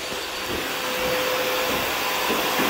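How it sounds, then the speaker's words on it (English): A backpack vacuum cleaner with a detail brush runs steadily while cleaning a move-out apartment, a loud close continuous whine and rush of suction with slight shifts in pitch as the brush moves. "Right now, Davis is vacuuming"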